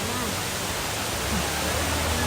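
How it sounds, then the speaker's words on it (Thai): A real waterfall roars as a steady, dense rush of falling water at a scenic spot, filling the whole clip with a continuous, even wash of noise while voices faintly come and go. "น้ำตกของจริงอ่ะ"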